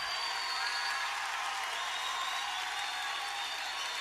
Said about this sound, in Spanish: Levante ese aplauso al Señor.